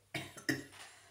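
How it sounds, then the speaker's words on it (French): A woman coughs twice in quick succession, close and fairly quiet, each cough sharp at the start and trailing off. "excusez-moi, j'arrête pas de tousser et j'en suis désolée"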